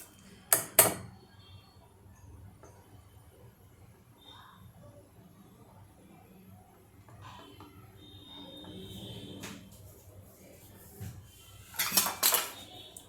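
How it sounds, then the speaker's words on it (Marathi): A spoon mixes hot oil and soda into a batter for onion and tomato ring fritters; sharp metallic clinks against the bowl open and close the clip, with soft quiet stirring between. "या चमच्याने पूर्ण तेल आणि सोडा बॅटरमध्ये मिसळवून घ्यायचं"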